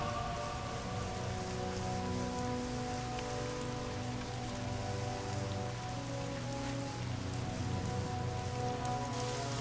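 Steady rain falls throughout a boss fight in Devil May Cry 3, a constant hiss beneath sustained low tonal music, with no talking.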